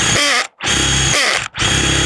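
A drill whirs loudly in three close bursts, its motor pitch wavering as the bit works, with short silent gaps between runs.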